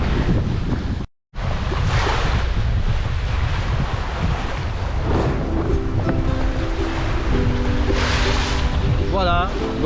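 Ocean waves rush and break around a sailing boat during a transatlantic race, with strong wind buffeting the microphone, a continuous loud roar briefly cut out, and voices faintly heard.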